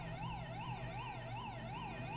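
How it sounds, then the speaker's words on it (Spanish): A police car siren wails in the video game GTA V with the LSPDFR mod, a loud, steady up-and-down cycle repeating about every eight-tenths of a second over a low engine rumble, with no talking. "Ya está, ya quito la sirena"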